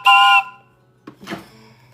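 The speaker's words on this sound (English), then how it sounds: "Yes, the train whistle. It's my favorite." A train whistle gives one short, clear, tonal blast of about a third of a second, followed by a faint brief rustle after a pause.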